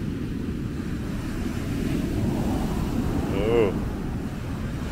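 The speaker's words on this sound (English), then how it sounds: "these waves are big." Big ocean waves breaking, heard as a continuous rushing wash of surf with wind buffeting the microphone, while a person briefly exclaims.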